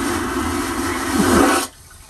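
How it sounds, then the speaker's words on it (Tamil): Water runs steadily from a turned tap or shower in a small cruise ship cabin bathroom, a close, full rushing hiss that surges briefly near the end and then cuts off abruptly. "வந்து இதை திருப்பினோம்னா அப்படி தண்ணி வரும்."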